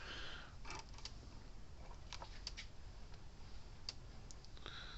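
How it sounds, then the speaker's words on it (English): Electric fence charger transformer clicking in sharp, separate ticks at irregular spacing over a steady low hum, fairly close and faint, with no voices. "the clicking sound, which is where the clicking sound comes from the transformer"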